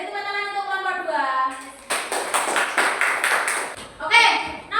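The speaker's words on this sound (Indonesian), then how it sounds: "Beri tepuk tangan untuk kelompok 2." Classroom applause for a student group: a burst of many hands clapping in steady rhythm, near and fairly loud, between stretches of a teacher and children talking.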